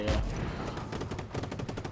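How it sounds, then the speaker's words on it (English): Gunfire in the video game Just Cause 3, with dense rapid bursts of shots and blasts layered over one another in a busy, continuous barrage. "as you can see, lots of explosions, lots of gunfire"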